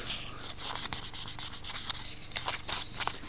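Fine-grit abrasive paper sanding a Longchamp tobacco pipe, a close, quiet run of quick rhythmic rubbing strokes that continue steadily throughout with no talking.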